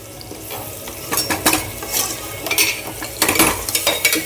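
Onions sauté in a pan with a loud, close sizzle, broken by bursts of stirring and scraping of a utensil against the metal.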